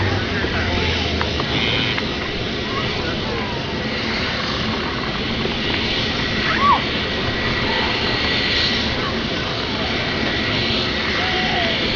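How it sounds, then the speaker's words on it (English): A Curtiss Helldiver WWII dive bomber from the Commemorative Air Force taking off, its radial engine a steady loud drone that fills the whole stretch, with voices audible beneath it. "listen to the music she makes as the Commemorative Air Force's Helldiver takes to the sky"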